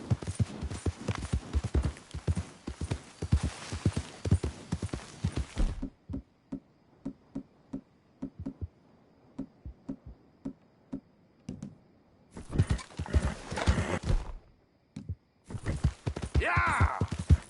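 Horse hooves galloping in Red Dead Redemption 2, a rapid close, rhythmic clip-clop with dense bursts at the start and end and sparser, spaced hoofbeats in the quieter middle stretch.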